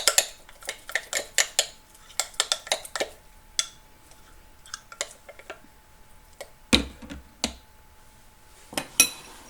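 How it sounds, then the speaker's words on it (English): Sourdough starter stirred vigorously in a container, a quick run of sharp utensil clicks and taps against the sides, close and fairly loud, pausing briefly before a few more scrapes and knocks. "And I'll stir it up. Do it a little bit vigorously so we can incorporate some"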